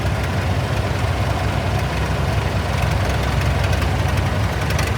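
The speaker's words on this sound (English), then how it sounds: "This is the 69 Massey 180 with a tough looking tricycle front end." A 1969 Massey 180 tractor with tricycle front end idles close by at a steam and gas show parade, its diesel engine giving a steady, loud, low knocking rumble without a break.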